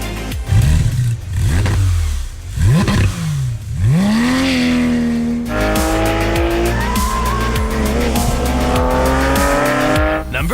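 A Porsche 911 GT3 RS engine revs hard and screams through rising gear sweeps, with tire squeal and a harsh, loud, close-up racing-car wail that climbs in pitch and holds high at the end.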